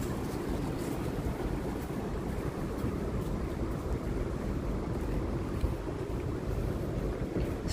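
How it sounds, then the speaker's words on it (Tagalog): Strong wind roars outdoors in Hong Kong under typhoon signal No. 8, a dense, constant low rushing noise that stays loud and unbroken, with no rain and no speech. "Mahangin siya."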